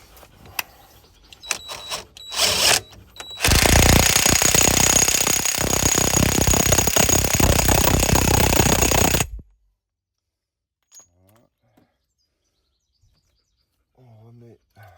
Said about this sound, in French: Le cardan qu'on va serrer au pistolet.